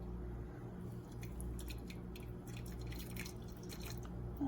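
Coffee drips through the permanent filter of a Bodum 11592-109 pour-over coffee maker, a faint, close run of soft irregular drips and trickles with no talking.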